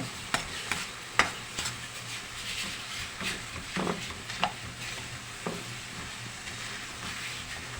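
Tomatoes mashed and stirred in a pan with dried fish, sautéing into ginisang kamatis: a steady sizzle of frying runs throughout, broken by sharp scrapes and taps of a utensil against the pan.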